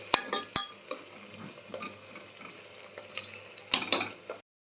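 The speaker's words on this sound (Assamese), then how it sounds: "এফালে মই পিঁয়াজখিনি অলপ ভাজি ল'ম।" Onions and green chilli fry in hot oil with a soft sizzle under sharp metallic scrapes and taps of a spoon stirring in the pan, several knocks clustering near the start and end.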